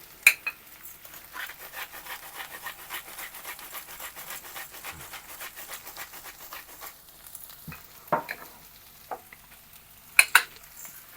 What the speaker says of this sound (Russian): Ее надо поджарить вместе с креветками, со всеми овощами.